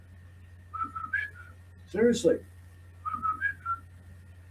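A person whistles a short melodic tune in two phrases, clear and close, with a brief burst of speech between them.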